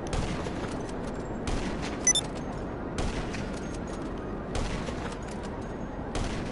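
Sustained automatic gunfire from GTA Online, dense and continuous across the whole stretch with repeated bursts and occasional sharper cracks, loud and close with no talk over it.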